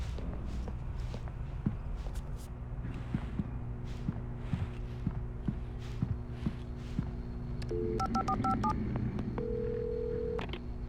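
A run of short electronic telephone keypad tones in Alan Wake Remastered, with footsteps and a low hum beforehand, ending in a sustained dial tone, at a gas station phone.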